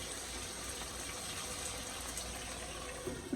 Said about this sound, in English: I'm gonna add a little bit of more water